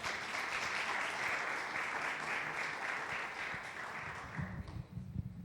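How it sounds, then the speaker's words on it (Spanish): A room full of people at a conference panel session applauds, steady dense clapping that gradually thins out toward the end. "un fuerte aplauso, por favor."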